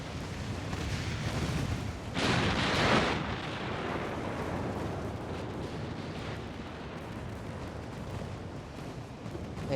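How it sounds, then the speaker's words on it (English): Naval guns fire in the Ultimate Admiral: Dreadnoughts battle game, a deep rumbling roar of shellfire and explosions with a sharp, heavier blast as a shell hits a battleship. "Oh, we got a hit on the battleship."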